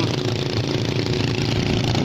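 Farm tractor engine chugs steadily at idle in a muddy rice paddy in Suphanburi, a loud close rough rumble with a ticking beat running throughout.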